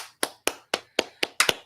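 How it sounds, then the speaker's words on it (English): A class clapping at dismissal: six crisp, evenly spaced claps, the last two close together, close and clear with no talk. "Clap it up."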